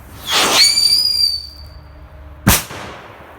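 A Funke SCREAM 3s sound-emitter firecracker with purple tissue: a shrill whistling screech rises, then fades, followed a moment later by a single sharp firecracker bang, close and loud.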